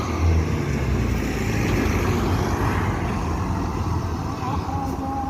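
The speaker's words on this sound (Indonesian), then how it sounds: "Ini bus transport juga udah menuju Pulau Jawa" A transport bus on an Indonesian intercity road heading toward Java, its engine a steady, loud rumble with broadband road and wind noise throughout, and a passing vehicle adding a brief swell.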